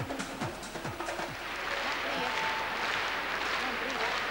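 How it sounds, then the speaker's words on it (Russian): Arena crowd applauding after a ladies' figure skating performance at the 2005 Russian Nationals, a steady broad wash of clapping swelling and holding throughout, with a commentator's voice briefly over the start. "Приятные аплодисменты"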